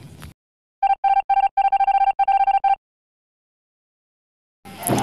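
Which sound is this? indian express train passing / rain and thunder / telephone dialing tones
telephone dialing tones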